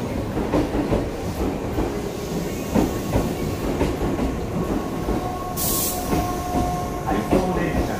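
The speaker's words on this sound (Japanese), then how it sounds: "回送電車が発車します。" An out-of-service train pulls away from a station platform, with loud rumbling and rhythmic wheel clatter that continues throughout. A faint squeal is heard, and there is a short burst of hissing air near the middle.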